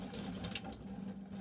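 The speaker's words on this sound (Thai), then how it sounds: "เอาผ้ามาอย่างเงี้ยนะคะแล้วก็ชุบน้ำก่อน" Towel being soaked under running water from a tap, a steady gushing splash that stays constant and moderately close, with no talk.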